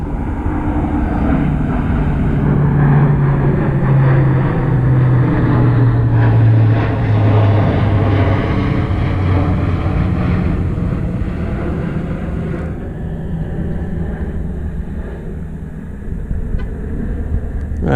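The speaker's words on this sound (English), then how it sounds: "Oh, we got a C-130 going by." A C-130 aircraft flying by overhead, a loud steady propeller drone with a sliding low hum as it passes, fading slightly toward the end with no talking.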